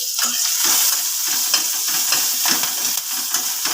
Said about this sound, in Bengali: কাঁচা লঙ্কা রসুনের কাঁচা গন্ধটা যাওয়া পর্যন্ত সামান্য গ্যাসটা সিমে দিয়ে ভেজে নিচ্ছি